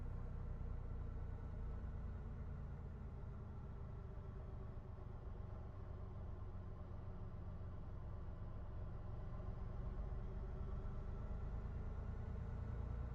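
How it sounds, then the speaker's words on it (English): Steady low engine idle from a car in a sim racing game, a continuous deep diesel-like rumble with an even, unchanging drone throughout, moderately quiet and with no talking. "It's like diesel idling."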